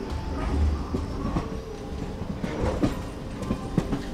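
An Indian Railways train runs along the line near Dongargarh, with a steady rumbling roll and scattered metallic clatters and knocks from the wheels. No one speaks.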